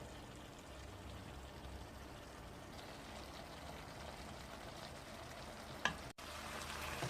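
Green bean dish cooking in a pot on the stove, a steady low sizzle and simmer running throughout at moderate level, with a brief knock near the end and no talking.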